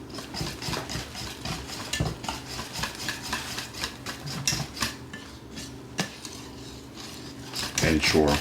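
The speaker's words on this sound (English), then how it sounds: "So what I'm doing, why you see I'm whisking it like this" Whisk beating Jamaican fruit cake batter darkened with gravy browning in a bowl, quick rhythmic scraping and tapping against the bowl, continuous and close, with a brisker flurry at the end.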